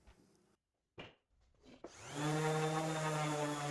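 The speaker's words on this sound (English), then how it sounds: "I miter each cut to 45 degrees." Saw cutting 45-degree miters in wood for canvas frames: a steady, loud, sustained whine with a droning tone that holds through the second half after a few brief knocks and handling sounds.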